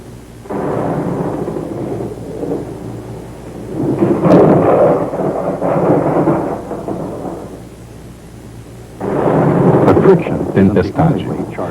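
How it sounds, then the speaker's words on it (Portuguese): A thunderstorm with deep rolling thunder sweeps through in long, loud broadband swells, easing between bursts and building again toward the end amid steady rumbling. "Tempestade."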